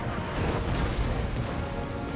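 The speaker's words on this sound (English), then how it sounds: "you can hear our artillery, we're kind of exchanging fire right now" Dense, continuous rumbling booms of artillery fire rolling on without pause, loud and heavy, with no voices.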